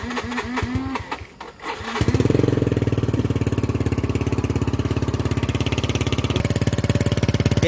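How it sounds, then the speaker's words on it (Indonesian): A few mechanical clicks and cranking sounds, then a Yamaha X-Ride supermoto engine fires up and settles into a steady, close, chugging idle. "Kita coba nyalakan dulu motornya"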